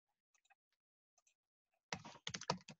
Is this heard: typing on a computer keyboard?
yes